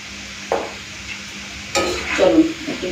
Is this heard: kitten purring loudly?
no